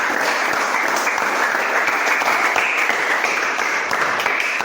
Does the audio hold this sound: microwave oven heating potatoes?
no